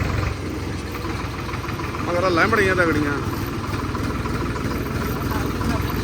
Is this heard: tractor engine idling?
yes